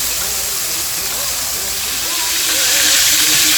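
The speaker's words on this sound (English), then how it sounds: "Now the big sizzle." Chicken fries in hot oil for a golden fried chicken sandwich, turned in the pan and giving a loud, steady sizzle and hiss that swells slightly toward the end.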